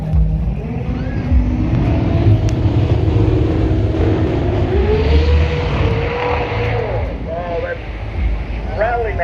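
Car engine revving hard at the Brisbane Jamboree, a loud sustained rattling roar that rises and falls in pitch, with people talking over it.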